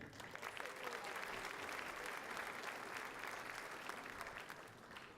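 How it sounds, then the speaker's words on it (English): A crowd applauds steadily throughout at a State of the City address, a dense patter of clapping heard from some distance at moderate volume. "Round of applause for Ring."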